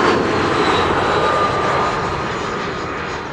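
A just-landed airliner's engines hold a steady, loud roar with a thin whine on top, easing slightly toward the end, with no talk over it.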